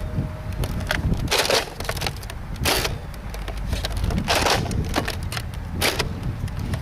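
Nerf N-Strike Longshot CS-6 blaster firing foam darts at an angle, several sharp mechanical thumps and clacks of priming and release spaced a second or so apart, close and fairly loud over outdoor background noise.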